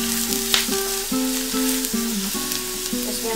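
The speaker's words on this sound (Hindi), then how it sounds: "I have added this chopped garlic. इसको हम थोड़ा फ्राई करेंगे।" Chopped garlic frying in a wok for Manchurian sauce, a loud, steady close sizzle that carries throughout. Melodic tones, likely background music, run beneath it.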